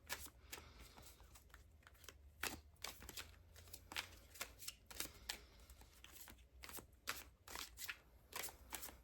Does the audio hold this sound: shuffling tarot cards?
yes